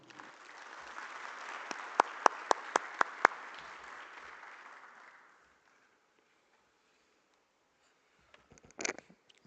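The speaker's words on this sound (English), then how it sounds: "they deserve a thunderous applause or a round of applause" A round of applause from the audience at a seapower symposium for a discussion panel, a dense crowd clapping with a few sharp claps standing out, fading out after about five seconds into silence before a brief rustle near the end.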